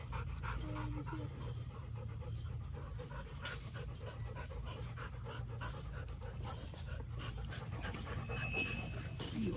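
A dog pants rapidly and steadily up close, rhythmic breaths continuing throughout with light background noise and no talking.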